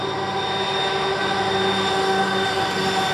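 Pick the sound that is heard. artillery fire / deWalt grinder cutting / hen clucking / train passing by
train passing by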